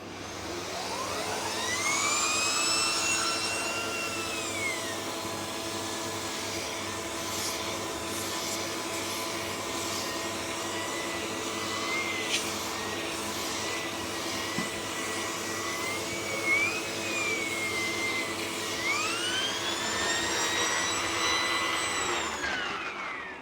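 A Sebo vacuum cleaner fitted with a genuine Mini Turbo Tool runs continuously over carpet, a steady loud whine with a rising and falling turbine pitch as the tool spins up, works and winds down.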